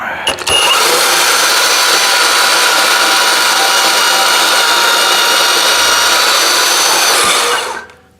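A VEVOR 20V cordless portable band saw runs steadily through a cut, a loud continuous whine with hissing blade noise for about seven seconds before it spins down at the end.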